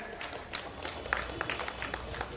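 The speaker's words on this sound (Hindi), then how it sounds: "गुरुजी का लिए भी एक जोरे हाथ ताली हो जाए" Brief applause for a guru at a gathering, a scattered patter of hand claps from a small crowd, moderately distant, with some voices mixed in.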